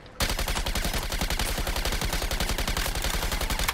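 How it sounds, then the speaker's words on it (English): Rapid, evenly spaced gunfire from a shotgun in the video game Suicide Squad: Kill the Justice League, loud and sustained for several seconds with no talk over it. "Oh, it was a shotgun."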